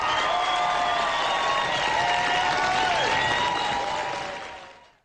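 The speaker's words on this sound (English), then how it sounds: "Let's give these guys a round of applause," Applause from a crowd during a live futures-trading broadcast, a steady dense wash of clapping that holds evenly, then fades out smoothly at the close.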